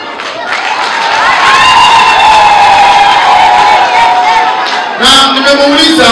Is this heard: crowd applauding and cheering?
yes